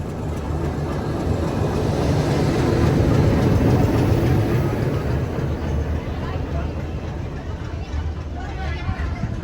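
Riding a meter-gauge train near Gir railway station, another locomotive rumbles steadily past with a loud, continuous roar, and faint chatter underneath.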